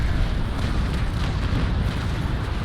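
A sailing warship fires a broadside of cannons in the Naval Action naval combat game, a dense, loud rolling roar of overlapping blasts that fills the whole moment.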